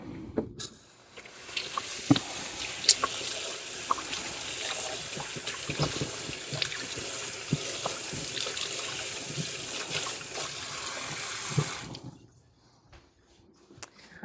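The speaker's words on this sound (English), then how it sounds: "I'm going to rinse it under the sink water" An amaryllis bulb is rinsed under a sink tap, a close, steady stream of running water with splashes and small knocks for about eleven seconds before the flow stops and faint handling sounds remain.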